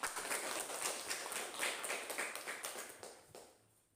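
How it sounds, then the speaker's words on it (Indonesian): Classroom of students clapping hands during a lesson, a close, lively burst of many overlapping claps with an uneven rhythm that thins out and trails off near the end. "Tepuk tangan."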